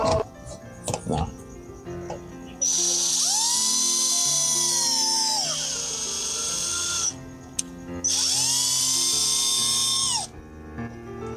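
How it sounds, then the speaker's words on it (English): A power drill bores through a car part, its loud high whine running steadily for several seconds, dropping in pitch as it breaks through, then starting again for a second burst after a short pause. "I'm not sure how I feel about how easy that is to drill through."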